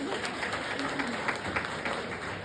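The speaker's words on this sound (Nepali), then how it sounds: "ल ताली बजाइदिनु त ल।" Guests clapping at a Christian wedding ceremony in Nepal, steady moderate applause running for a couple of seconds, with a faint voice in the background.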